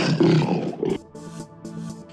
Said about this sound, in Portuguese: Quando o leão viu Andro, ele rugiu muito alto